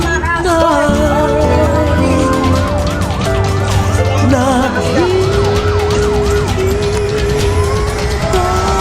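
Police car sirens wail loud and close, several overlapping up-and-down sweeps layered over a rumbling engine and a dense, noisy street scene, continuing throughout without speech.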